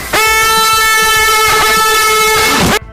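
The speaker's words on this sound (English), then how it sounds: "the fateful use of an air horn sent Jules' old cat, Mr. Snuffers, running" A single loud, sustained air horn blast with a bright, brassy tone, holding steady for nearly three seconds before cutting off abruptly.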